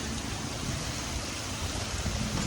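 A dense, unbroken roar of heavy monsoon downpour fills the whole moment at an even, loud level, with no voices or other distinct sounds above it.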